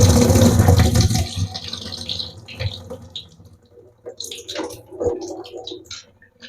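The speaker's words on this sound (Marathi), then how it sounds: "आता आपण दोनदा आपण छान धुवून घेऊ मटकी परत" Moth beans (matki) are rinsed under running tap water in a kitchen: a loud rush of water at first, then a lull, followed by a few sloshing splashes as the beans are swirled.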